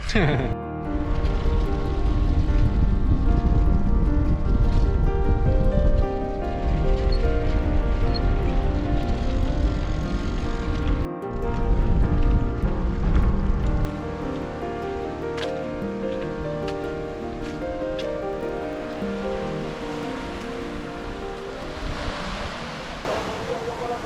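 Ocean surf on the beach at Playa Larga, Cuba, rushes and hisses in a continuous broadband wash, loud at first and then softer, with wind and people talking over it.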